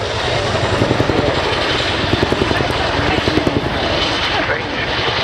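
A large transport helicopter at the Cosford 2015 air show, its rotor chop thudding steadily and loudly with a broad engine roar underneath, while someone talks over it throughout.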